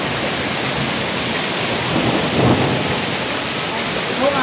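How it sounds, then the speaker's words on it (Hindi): Hailstorm in a home courtyard, with heavy rain and hail pelting steadily and densely, close and loud throughout, and a low thunder rumble swelling in the middle. "देखो ओले ओले ख़तरनाक आ गए हैं, मौसम भी गड़बड़ गड़बड़ कर रहा है बहुत ज़ोरों से"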